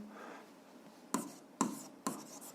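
Pen or pencil writing on a drawing for a seventh-grade algebra exercise, three quick, close scratchy strokes after a soft rubbing start, alone without talk.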